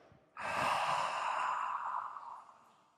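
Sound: breathing out during yoga breathing exercise

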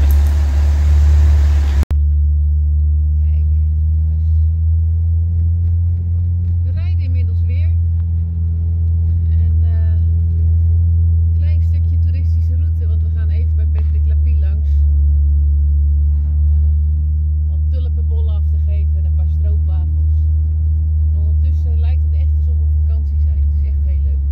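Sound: classic rally car engine running smoothly after repairs

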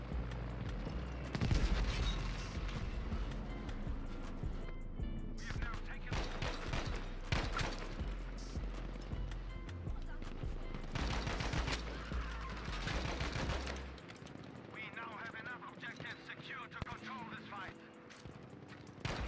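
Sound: gunfire in the video game Battlefield V

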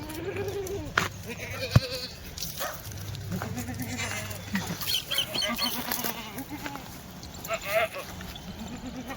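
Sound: Kathewadi goats bleating

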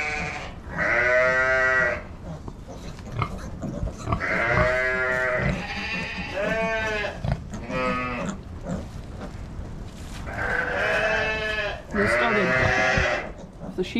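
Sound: sheep and goats bleating

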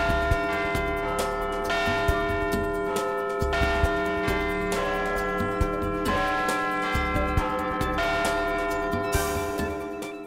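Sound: Big Ben bells ringing in clock tower, London

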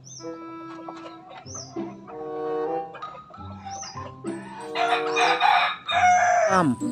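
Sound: rooster crowing

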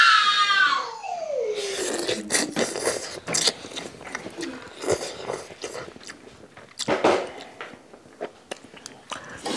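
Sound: eating Maggi and Indomie instant noodles

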